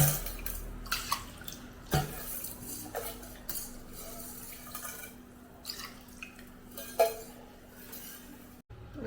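Fenugreek, rice and lentils are washed together in water in a pot, giving splashes, drips and light clinks of the vessel at irregular intervals against a low, quiet background hum.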